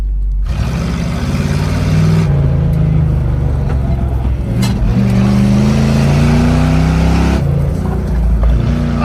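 A station wagon is driven hard around a race track, its engine loud and close, revving and droning through rising and falling pitch as it accelerates and lifts between corners, with no talking.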